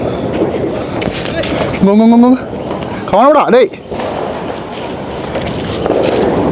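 Firecrackers go off in a Chennai street during celebrations, sharp bursts and crackling amid crowd noise, with people shouting and talking close by.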